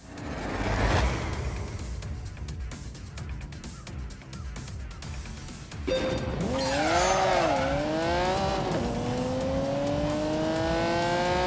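Cars lapping a test track on The Grand Tour, one including a flat-12, engine roaring steadily while tyres squeal in long wavering howls through the corners, loud and continuous.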